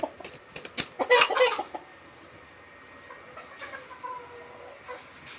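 A paralysed hen under treatment clucking, a burst of several close, sharp clucks early on, then fainter scattered calls over a low background.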